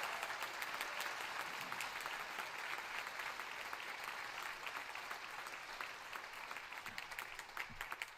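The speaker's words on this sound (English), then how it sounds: "So let's have a round of applause for our All-State Jazz Ensemble students." An audience at a school band winter concert gives a round of applause for the All-State Jazz Ensemble students: a steady patter of many hands that sounds somewhat distant and soft throughout.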